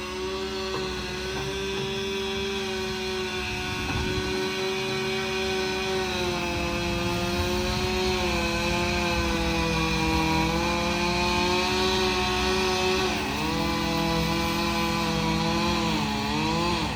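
Chainsaw bucking a felled tree into firewood on a steep mountain hillside, a continuous loud engine drone with rising and falling pitch as the chain bites through the log, no pauses.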